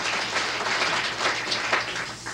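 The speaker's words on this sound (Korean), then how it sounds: "영광의 박수를 하나님께 한번 돌리십시다" A church seminar audience gives a brief burst of applause, with dense, even clapping filling the short moment at moderate loudness and no voices over it.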